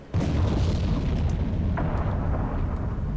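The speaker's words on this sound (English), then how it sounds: "Explosions to our rear." Deep rumbling explosions go off behind a submarine in a video game, a sustained low booming roar that starts abruptly and carries on with faint bursts layered over it.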